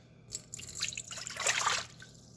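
Hot water pours into a bowl for doughnut dough, a soft, close splashing trickle that swells over about two seconds and then tapers off.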